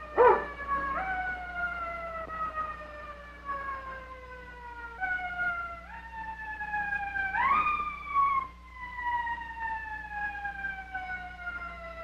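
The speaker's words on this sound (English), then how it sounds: "I hear a siren." A wailing siren sweeps slowly up and down in long repeated cycles, somewhat distant, with a faint low rumble underneath and no talking.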